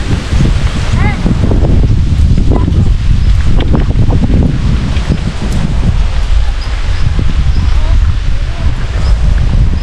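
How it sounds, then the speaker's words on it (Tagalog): Gusty wind buffets the microphone beside a river, loud rustling and rumbling with voices talking over it. "Hangin!"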